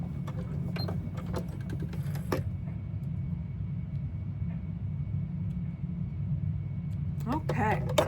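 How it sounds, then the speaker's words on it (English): A sewing machine stitches a rag doll's leg: a steady, low mechanical hum runs unbroken for the whole stretch, with a few light clicks and brief higher rattles near the start and end. "I want to sew the other one real quick"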